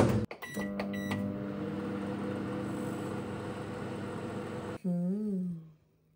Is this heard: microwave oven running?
yes